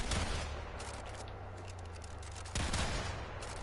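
Rapid gunfire from a weapon in the shooter game Warframe, a dense continuous burst that runs for a few seconds, briefly eases off, then surges loud again near the end.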